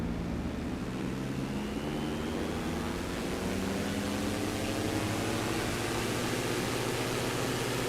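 Steady broadband drone of a light airplane engine during initial climb in Microsoft Flight Simulator 2024 on PS5, with a continuous propeller roar and low hum that holds constant throughout without talk.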